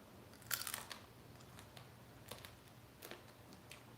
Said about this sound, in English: Crunchy chicken bones are the best.